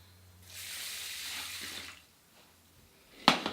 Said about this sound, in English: And to that I'm going to add 2 cups of water.